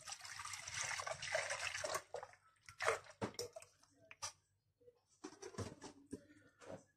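Milk poured for whisky hot chocolate: a steady liquid gush for about two seconds, then broken splashes and glugs of pouring that trail off into intermittent trickles, close and fairly soft.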